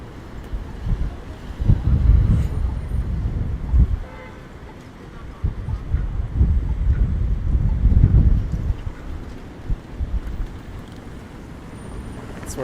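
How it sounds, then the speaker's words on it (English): Gusts of wind buffet the microphone on a downtown Toronto street on a cold Friday evening, rising and falling in loud low-frequency surges over faint traffic. "It is getting windy."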